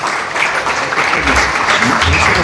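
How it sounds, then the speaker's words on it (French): An audience at a public question-and-testimony gathering claps steadily and densely for the whole stretch, a continuous wash of many hands with a few voices murmuring underneath. "Est-ce qu'on peut encore applaudir, s'il vous plaît?"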